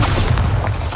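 The Bombarda explosion spell in Hogwarts Legacy lands as a loud, close, deep boom, a heavy rumbling burst that fills the brief moment with no voices.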